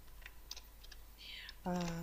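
Quick light keystrokes on a computer keyboard, a few scattered clicks heard faintly and up close, with a short tonal blip at the end and quiet talk alongside.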